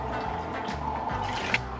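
Water pours steadily into a pot for cooking rice, a continuous close trickling and filling sound with a small splash near the end.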